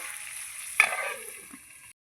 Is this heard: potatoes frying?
yes